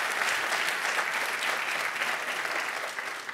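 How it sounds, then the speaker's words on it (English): An audience at a mayoral candidates forum applauds the moderator with a steady wash of clapping from a full room, heard from some distance at moderate loudness. "Please give another round of applause to our moderator"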